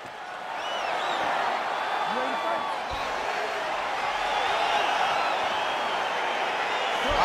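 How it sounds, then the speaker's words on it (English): A dense arena crowd in the PS5 game UFC 4 cheers and murmurs steadily as a heavyweight fight gets underway, a continuous wash of voices with occasional whoops, held at moderate loudness throughout. "Crowd getting excited as this fight gets underway"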